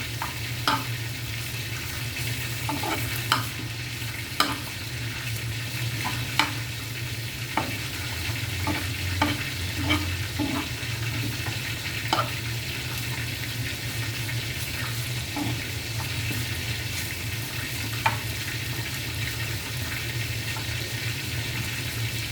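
A dish stirred in a pan over steady sizzling frying, with spoon scrapes and taps recurring every second or two, close and moderately loud with no talk.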